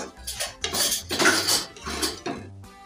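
A spoon stirs sabudana khichuri with ghee in a metal pot, giving a series of close, scraping clanks and rubs in an uneven rhythm, loud and alone.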